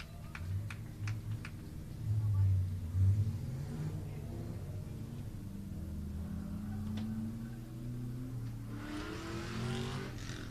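Corvette drag car idling at the starting line, a low rumbling engine burble that swells with a few revs, steady and moderately close, with faint crowd noise toward the end.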